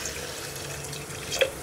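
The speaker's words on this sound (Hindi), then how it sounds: "अब इसमें मैं 1 गिलास पानी डाल रही हूँ।" A glass of water poured into a pot of mutton on a gas stove for Hyderabadi tahari pulao, a soft, faint splash and trickle with a small drip-like plink near the end.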